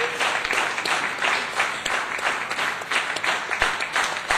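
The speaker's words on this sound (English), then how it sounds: "Let's give a big round of applause to Councillor Zulu" An audience at a 2012 economic summit applauds Councillor Zulu with dense, sustained clapping that fills the room steadily for the full few seconds without a break.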